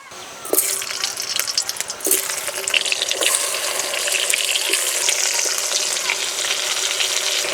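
Halved tomatoes hit hot oil left from frying eggs, bursting into a loud, close sizzle after a sharp splash and a few clinks, then a dense, steady crackling hiss that carries on without talk.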